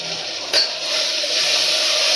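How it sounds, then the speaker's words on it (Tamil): Fresh mint and coriander leaves sauté in a hot pan with oil, giving a steady bright sizzle that swells after a brief clink near the start and holds close and constant, with no talking. "சேர்த்து இப்போ வந்து நம்ம அதையே நல்லா வதங்க விடலாம்"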